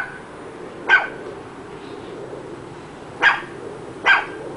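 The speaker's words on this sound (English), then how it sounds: "When he barks, it sounds like he's screaming." A dog barks three times, sharp and loud, with pauses between barks over a quiet background hiss.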